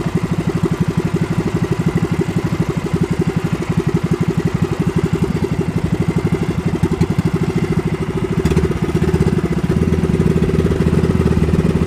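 A steady, low-pitched fishing boat engine chugs continuously at sea with rapid even pulsing, growing slightly louder and rougher near the end.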